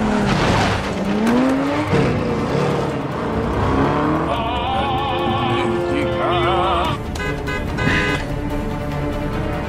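A car chase from a Sam Mendes James Bond film: revving engines and repeated sharp tire squeals and skids, loud and close, layered over a swelling orchestral score with no dialogue.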